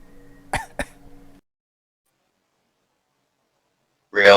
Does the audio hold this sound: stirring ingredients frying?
no